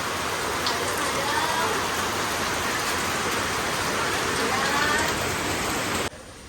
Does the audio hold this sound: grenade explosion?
no